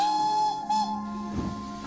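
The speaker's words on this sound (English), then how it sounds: "the guard's whistle blew and Sir John departed" A railway guard's whistle sounds as a single sustained shrill tone, fairly loud and steady for most of the moment before fading, with faint station background beneath.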